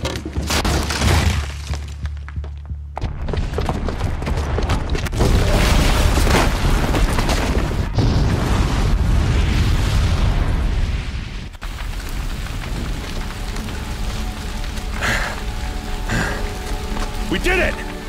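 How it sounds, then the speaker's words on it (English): A booby-trapped bomb in Horizon Zero Dawn detonates with loud, sustained booming and shattering debris that rumbles on for many seconds before settling into a lighter, crackling tail. "the booby trap on the bomb downstairs is gonna get set off"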